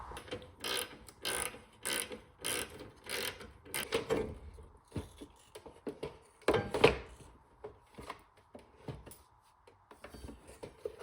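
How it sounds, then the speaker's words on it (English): Bolts being removed from a car headlight assembly during a first-car build, heard as a run of close, irregular metallic ratcheting and clicking bursts that thin out toward the end, with no talking. "these two bolts are the last ones holding the light in place. So we're just going to take those out real quick."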